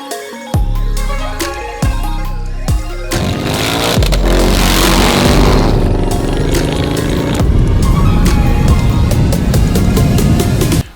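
A wide wheel bobber motorcycle engine revs hard and loud in a series of rising throttle blips, then holds a sustained, rough roar close by without pause.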